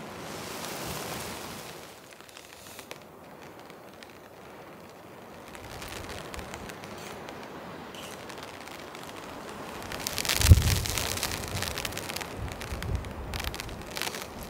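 Rain begins to fall on a tent at a wilderness campsite, making a soft, steady hiss that swells into a louder gusty rush partway through.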